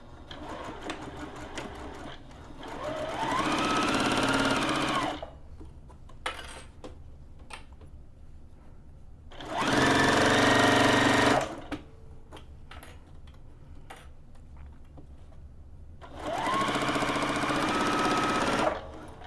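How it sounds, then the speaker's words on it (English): A sewing machine stitches a dog bandana in three separate runs, each a few seconds long. The whirring bursts are close and steady, with quiet gaps and light handling clicks between them. "We'll go ahead and start stitching, do a back stitch, and keep it going."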